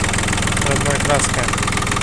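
A mini tractor engine idles steadily with an even, continuous low rumble and vibration, close and loud, while someone talks over it.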